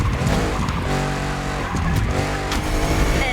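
A Citroën GT and a Renault Trésor race in The Crew Motorfest video game, their engines droning loudly and continuously with rising revs and a few sharp tire squeals over the roar.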